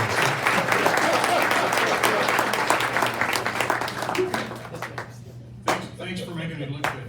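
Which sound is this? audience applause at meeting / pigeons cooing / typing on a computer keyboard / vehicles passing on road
audience applause at meeting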